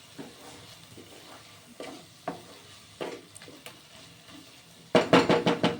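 Tomato and onion fry in a pan with a gentle sizzle while a utensil scrapes and stirs them in scattered strokes, ending in a louder burst of several quick scrapes near the close.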